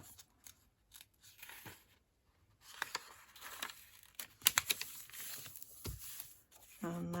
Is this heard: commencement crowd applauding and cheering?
no